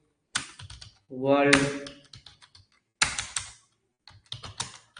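Computer keyboard keys clatter in short bursts while someone writes HTML code, with someone speaking over and between the typing.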